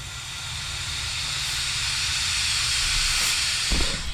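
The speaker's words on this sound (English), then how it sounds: "Here's a massive leak." Pressurised air hissing out of a massive boost leak in the turbo intercooler piping of a turbocharged VQ35-swapped S13, a continuous broadband rush close to the mic over a low engine rumble, with a brief knock near the end.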